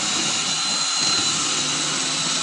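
A power drill whirs steadily and loudly throughout, a continuous high motorized buzz with slight variations in pitch.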